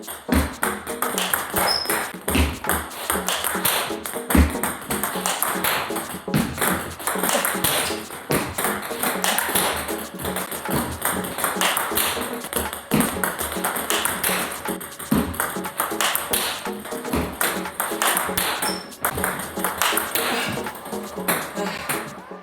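A table tennis ball is struck in rapid backhand drives on the table, giving a fast, continuous run of sharp pings and taps with bounces between, loud and close, with occasional voices.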